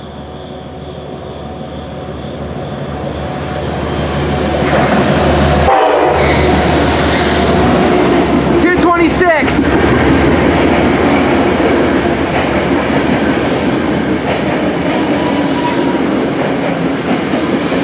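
A Metro-North train passing at night, its loud steady rumble and wheel noise swelling close by as the horn sounds a few short blasts partway through.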